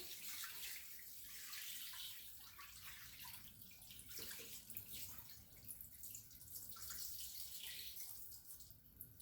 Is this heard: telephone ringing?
no